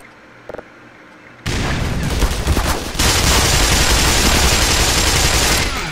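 Grenade blast and sustained combat din in the video game Black Mesa: faint clicks over quiet ambience, then a sudden loud boom at about 1.5 seconds that rolls into a dense, roaring wash of explosions and gunfire lasting to the end.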